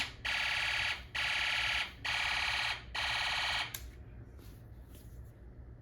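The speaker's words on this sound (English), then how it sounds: "Let's turn it on. It'll make a laser gun noise." A Snap Circuits Extreme SC-750 toy circuit's electronic laser-gun tone pulses four times in even bursts, loud and buzzing, then stops, leaving faint background hiss.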